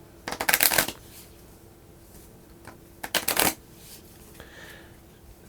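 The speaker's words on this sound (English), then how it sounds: "Now I shuffle these back." Playing cards shuffled back into a deck during a tabletop game, two quick riffling bursts about three seconds apart, close and crisp, with quiet between them.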